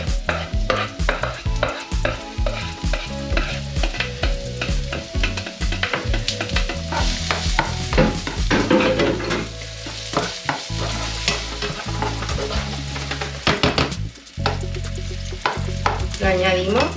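Chopped onion, salted afterward, fries in hot oil as a base for spaghetti and meatballs sauce, a continuous close sizzle with frequent scraping stirs, heard under background music.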